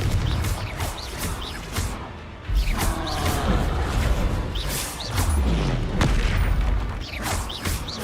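Blasting spell bursts in Hogwarts Legacy, with rapid, regular booms and cracking impacts in quick succession over a rumbling combat background, loud and close, with no clear speech.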